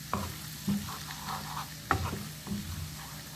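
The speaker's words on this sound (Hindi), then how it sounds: "मैदा डालने के बाद इसको मैंने अच्छे से भूनना है, धीमी आंच पे इसको मैंने अच्छे से भूनना है।" Maida flour is roasted in a pan over a low flame, with quiet, intermittent scraping strokes from a stirring spoon and a soft sizzle between them.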